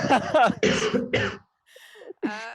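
Someone talks, then after a short pause a faint cough or two sounds out, quieter than the speech.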